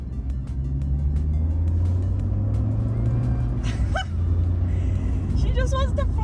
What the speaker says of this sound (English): we've just got a big 2-litre engine in the front of a 900 kg car